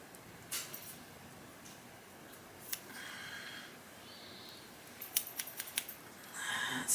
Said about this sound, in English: Let's see, does it cut hair?